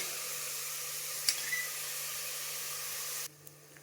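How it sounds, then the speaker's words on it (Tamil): Onions sautéing in a pan until golden, giving a steady, faint, even sizzle and hiss with a brief clink partway through before it drops away near the end. "வெங்காயம் நல்லா பொன்னிறமாக வதங்கணும்"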